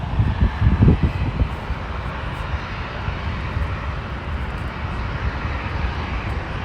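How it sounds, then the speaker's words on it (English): Boeing 737-700 jet airliner at Los Angeles International Airport, a broad, steady engine roar with a slightly louder swell at the start, heard from a distance. "There's a 737-700 there."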